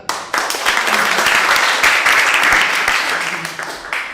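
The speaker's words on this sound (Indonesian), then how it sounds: "Tepuk tangan." Classroom applause from a group of students, a dense burst of clapping that starts abruptly, holds steady and thins out toward the end.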